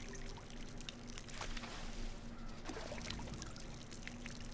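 Water poured from a watering can onto crops in RuneScape: Dragonwilds, a soft, continuous splashing trickle over a steady low hum, fairly quiet and without talking.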